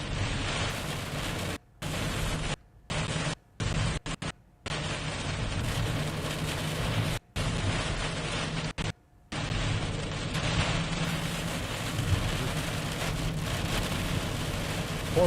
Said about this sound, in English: Oh, we can hear the rain for sure.